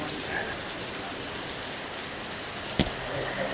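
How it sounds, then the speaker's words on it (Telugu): Steady rain falls at the entrance of a resort on Poovar Island in Kerala, a constant soft hiss with a brief sharp knock near the end, no voices. "వర్షం కూడా పడుతూ ఉన్నది."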